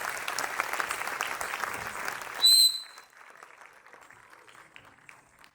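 An audience at a Gujarati gathering bursts into lively applause with a few sharp whistle-like tones. The clapping then drops to a softer, scattered patter that trails off.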